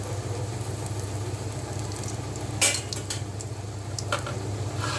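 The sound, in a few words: stirring cumin frying in a pan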